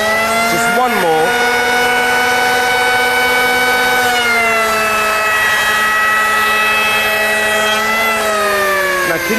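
A 750W triple-blade electric rebate planer from Unlimited cuts wood, giving a loud, steady high-pitched whine that dips in pitch under load and runs without a break.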